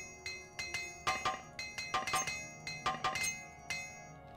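Repeated metallic hammer strikes on armor in Morrowind, a dozen or so ringing clinks in an uneven rhythm, each with a short bell-like decay, close and clear with no talking.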